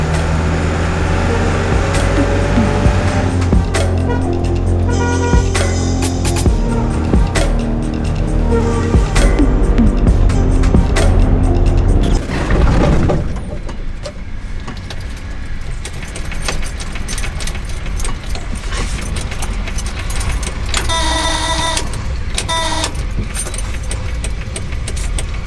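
A shared taxi car rides from Havana to Viñales, Cuba, with a loud, steady interior engine and road drone, small rattles and jangles on top, and a brief shift in tone about halfway through.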